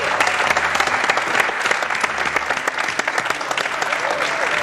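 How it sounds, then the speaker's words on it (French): Studio audience on a French television game show clapping for the winning contestant, a lively, continuous burst of applause with some individually distinct claps and a voice faintly underneath. "On applaudit Renaud."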